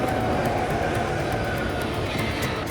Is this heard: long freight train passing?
yes